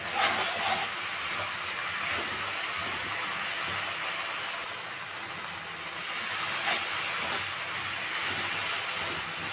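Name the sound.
sautéing spices for singi fish curry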